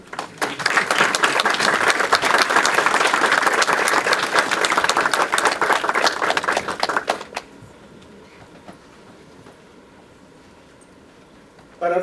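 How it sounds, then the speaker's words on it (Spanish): An audience at a formal session applauds loudly and densely for about seven seconds before the clapping stops abruptly, leaving quiet room tone with a brief sound at the very end. "les brindamos un fuerte aplauso"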